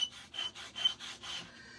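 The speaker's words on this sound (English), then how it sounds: "just scraping off all of those pieces so that we can change out our design" Dried paint is scraped off a Halloween décor surface in five or six rhythmic rasping strokes, close and fairly soft, then the sound tapers off, with no voices.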